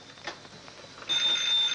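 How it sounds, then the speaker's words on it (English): An old telephone bell rings at night, a bright metallic ring at moderate distance that starts quietly and then swells into a sustained, louder ring. "Haven't I told you not to answer the phone at night?"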